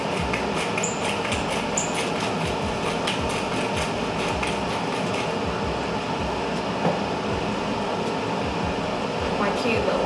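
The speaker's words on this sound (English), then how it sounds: "The extractor fan is really strong, I don't know how to turn it off." A strong kitchen extractor fan runs in a home kitchen, giving a steady, loud, continuous whooshing hum, with faint clinks of cooking in the background.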